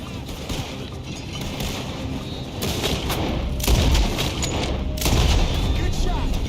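Gunfire in the video game Red Dead Redemption comes in repeated heavy bursts and booms over a dense, noisy game soundscape, with players talking throughout.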